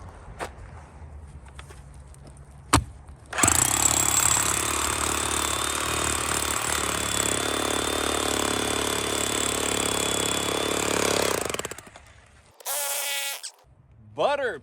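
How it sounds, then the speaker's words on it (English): A jackhammer at a house-building site kicks in with a loud, continuous rattling roar that holds for about eight seconds, then cuts off, with brief bursts and quieter noises before and after. "check out this jackhammer action"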